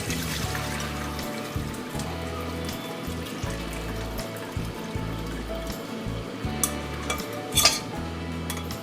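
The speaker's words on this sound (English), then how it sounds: "Now here I'm going to add chicken stock." Chicken stock is poured into a cooking pot for Tibetan mokthuk dumpling soup, a soft continuous liquid trickle with light clinks of utensils and a low hum underneath, close and fairly quiet.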